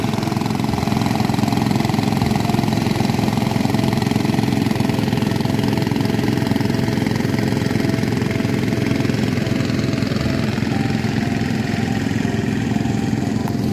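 A diesel engine used to pump water through hoses beside the Gajah Mungkur reservoir in Wonogiri runs close by, a loud, steady chugging rumble that never lets up, with no voices over it.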